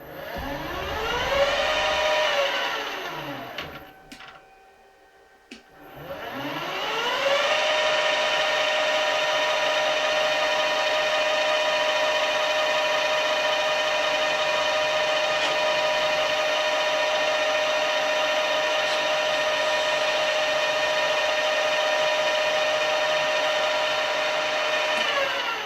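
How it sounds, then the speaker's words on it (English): Metal lathe cutting steady on a low-profile rotary table part, with harmonic tones that sweep as the spindle slows to a stop near the start, go quiet, then spin back up and hold a loud, steady whine. "I was turning the lathe the wrong bloody way"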